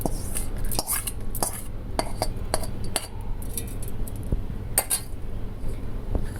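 Fried chilies, garlic and peanuts tumble into a steel mixer jar for peanut chutney. Repeated clinks and clatters of metal and dishes sound close and fairly loud over a steady kitchen background, with no talking.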